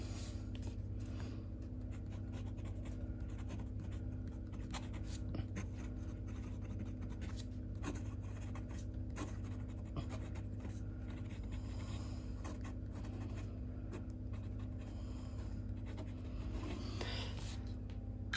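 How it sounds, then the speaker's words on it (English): A Lamy medium fountain pen nib scratches steadily across paper, a faint, continuous rasp with small strokes, close up over a low background hum. "you could probably hear it's a little sharper. You could hear it scratching a bit more than the left-handed nib."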